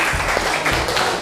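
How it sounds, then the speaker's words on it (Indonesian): Brief clapping from students in a classroom, a short burst of hands lasting just over a second at moderate level. "Oke, kasih tepuk tangan."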